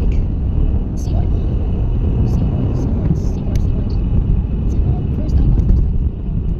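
Rumbling low road noise inside a car driving through congested uphill streets near markets, with steady engine and tyre drone and faint chirps above, while a voice talks over it.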